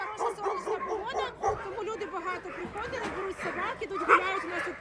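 Dogs at a dog shelter in Odesa bark, yip and whimper, a busy scattered chorus at moderate distance beneath people talking.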